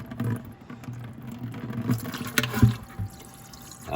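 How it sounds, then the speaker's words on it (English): Water draining from an opened 1 1/16 hydraulic plug on a frozen-up Massey 50 tractor, a close uneven splashing and trickling with a few louder spatters, no voices. "Oh, there's water coming out of it now."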